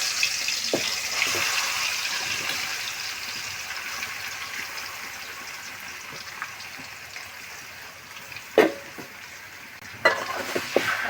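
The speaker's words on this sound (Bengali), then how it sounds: "তেল গরম হয়ে গেছে, দিয়ে দিচ্ছি।" Pieces of country chicken dropped into hot oil in a home kitchen, giving a steady broad sizzle with stirring scrapes and a couple of sharp clatters near the end, with no talking.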